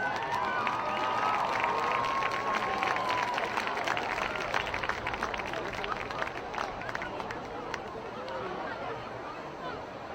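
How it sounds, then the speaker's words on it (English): A crowd in the stands at a high school football game applauds and cheers for the senior homecoming nominees, giving steady clapping with cheering and general crowd noise throughout. "Let's give a round of applause for all the senior homecoming nominees."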